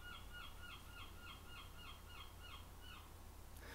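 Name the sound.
seagull calling outside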